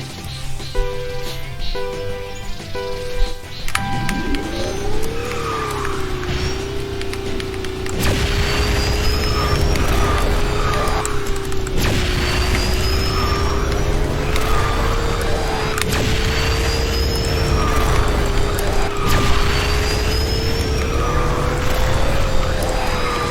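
A kart engine hums at a steady, sustained pitch while racing the WKC Touring Rally track in KartRider, with a rising start, periodic whooshes and clicks of drifting and boosting, loud and continuous throughout.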